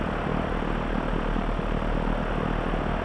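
Alabeo M20R Ovation piston engine idling at 1,000 RPM in a flight simulator, a steady, even propeller drone with a dense low rumble that holds constant throughout, with no voices.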